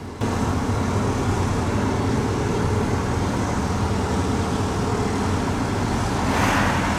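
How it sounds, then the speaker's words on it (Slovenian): A TAM 170 T 19 6x4 forestry truck drives with a steady, loud engine drone and road rumble held throughout, with no talking. "Vožnja s tem velikim tovornjakom z relativno šibkim motorjem je precej enostavnejša kot z njegovimi brati s 4-valjnimi motorji"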